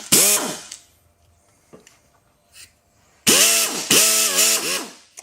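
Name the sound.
3/8 drive ratchet clicking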